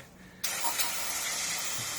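Aerosol brake cleaner hisses in a steady, loud spray onto oily engine parts of a Ford Mondeo MK5 oil cooler area; the burst starts abruptly and continues unbroken with no talk.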